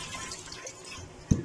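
Cold rinse water pours off washed bitter gourd in a steady broadband rush, ending with a short low thump as the gourd settles in a strainer.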